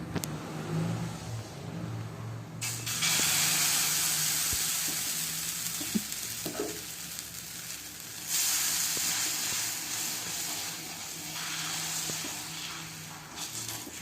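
Atta adai batter poured onto a hot griddle stone sends up a steady, loud sizzle that swells and dips but keeps going for several seconds, close by and with no talking.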